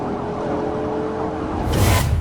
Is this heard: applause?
no